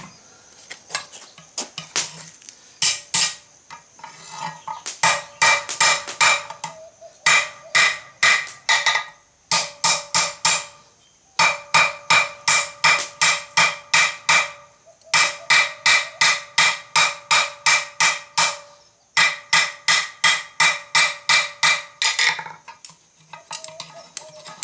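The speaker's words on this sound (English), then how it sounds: "with a hammer, we're just going to give it a nice, solid couple of whacks, just to set it a little bit" A blacksmith's hammer striking a hot rivet on an anvil at a forge to set it: bright, ringing metallic blows in fast repeated runs, with short pauses between groups, loud and close.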